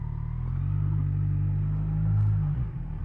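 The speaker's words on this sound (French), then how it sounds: "quand tu accélères un peu, ça ouvre les valves, et franchement ça fait un bruit pas dégueu" A motorcycle with its stock exhaust idles with a steady low rumble, then swells briefly as the throttle opens and the exhaust valves open, before settling back, close and alone.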